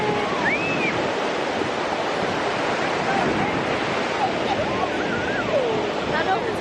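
Ocean surf washing onto a beach: a steady, loud broadband roar of breaking waves and wind that never lets up, with faint voices drifting in over it.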